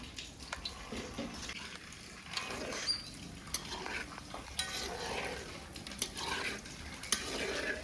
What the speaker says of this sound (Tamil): சும்மா அருமையாக பொரியுது